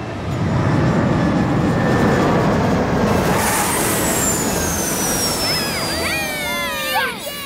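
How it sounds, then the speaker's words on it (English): Cartoon airplane coming in to land on a runway, its steady engine roar loud and continuous before a rising whine and a bump of touchdown near the end. "Camilla, you are cleared for landing for real this time. Roger that, Rubble. I can see the runway."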